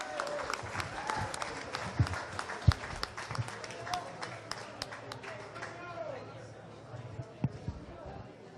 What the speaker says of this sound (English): how about a big round of applause for Sonny O'Sullivan?